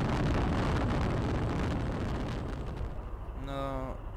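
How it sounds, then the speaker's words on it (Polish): Brick Rigs video game military weapon firing: a loud, sustained broadband blast with heavy low rumble, tapering over a few seconds, followed by a short rising tonal whine near the end. "Strzał."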